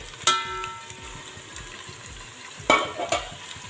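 Onions frying in a home kitchen for biryani, a soft steady sizzle with rapid rhythmic stirring scrapes, and two louder bursts of clatter and hiss partway through.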